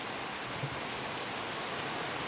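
Heavy rain falls steadily in a broad, even hiss of drops striking surfaces, continuous and fairly near with no pauses.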